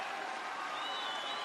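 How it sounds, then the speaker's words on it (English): A brief burst of crowd cheering and applause fills an arena at a men's -68 kg taekwondo semifinal at the Baku 2015 European Games, a dense, distant-sounding roar with a thin whistle-like tone rising midway. "Listen to that crowd."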